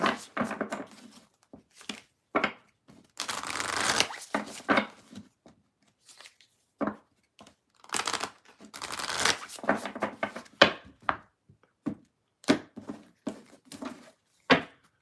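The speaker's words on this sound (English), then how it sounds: "Shuffle." Tarot cards shuffled by hand in repeated bursts of riffling and soft slapping, close and fairly loud, with brief pauses between the bursts.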